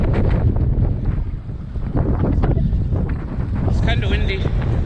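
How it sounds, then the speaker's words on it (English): Strong wind buffets the microphone while cycling outdoors, a loud rough rumble that rises and dips throughout. "It's kind of windy."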